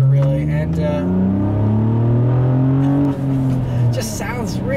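A 2014 Honda Accord V6 coupe with a manual gearbox revs quickly, its engine note climbing and falling in smooth sweeps up close, with someone talking over it throughout.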